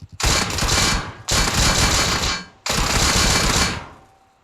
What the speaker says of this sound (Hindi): और मैं अपने साथ एक हमेशा गन लेके रखती हूँ इस टाइप की